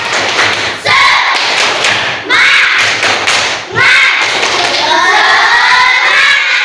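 A classroom of pupils performs a rhythmic spirit clap, with loud, dense thumps and claps in repeated patterns and children's voices chanting along.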